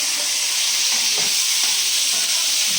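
Grated onion, grated pepper and tomatoes in oil sizzle loudly and steadily with a bright hiss, while a spoon stirs them with a few soft scraping knocks, close and without voices.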